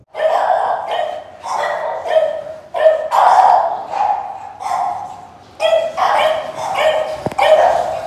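American bully dogs at a kennel bark loudly and close, in a steady series of deep repeated barks with brief whines between them.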